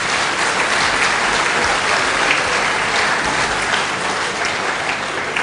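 An indoor audience claps for the venue staff, a dense, loud, sustained round of applause with no voices over it.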